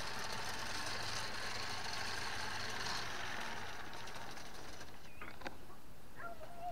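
Yarn is wound very quickly by hand for weaving cloth in the Baduy Luar village of Cicakal Muara, a continuous quiet mechanical whirring with faint chirps near the end.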